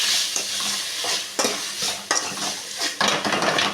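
Onions and tomatoes with a little salt frying in a pan, a loud, close sizzle broken by sharp metal spoon scrapes and clinks as the mixture is stirred several times.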